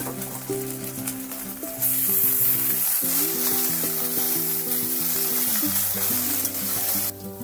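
Chili and chopped garlic sizzle and crackle steadily in hot oil for ghugni, a close, loud frying hiss with stirring scrapes, swelling louder partway through and continuing without any talking.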